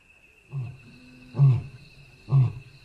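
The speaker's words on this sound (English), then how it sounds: "Another roar comes, from much closer this time." A lion roars close by in three separate deep, grunting bursts. Each is short with a clear start and end, rising louder after a quieter first grunt, against an otherwise quiet background.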